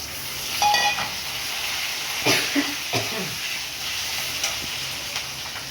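Potato and pumpkin pieces with slit green chillies fry in hot oil, giving a bright hiss with a few spatula scrapes and clinks partway through, close and moderately loud.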